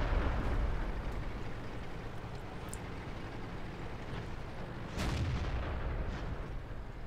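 In World of Tanks, the IS tank's cannon fires amid continuous battle rumble and a steady roar of engine noise, with one heavier boom standing out near the end.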